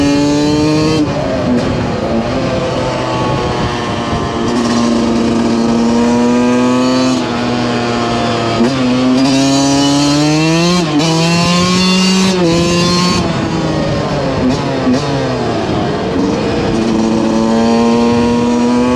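Beta RR 125 Racing motorcycle engine, running again after a carburettor adjustment, revs up and down loudly and continuously for the whole stretch, with rising and falling pitch sweeps and no talking.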